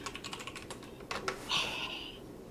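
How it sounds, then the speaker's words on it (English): Quick, irregular keystrokes clatter on a computer keyboard while someone types in a chat, soft and close, with a brief brighter rustle toward the end. "I was typing in Twitch chat just to explain things to people"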